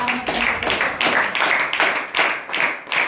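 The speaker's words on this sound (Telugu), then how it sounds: "ఒక్కసారి గట్టిగా చప్పట్లు కొట్టండి" A church congregation claps hands loudly together in a steady rhythmic beat, about two claps per second, sharp and close, with no voices over it.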